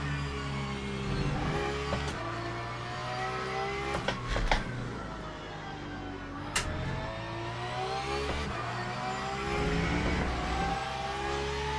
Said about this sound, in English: We're in the Porsche GT3 tonight, Todd.